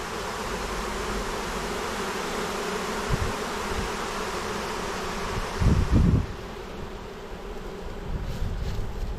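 Honey bees from a newly installed package buzz and fan in a dense, continuous drone, with a few louder brushes close to the microphone.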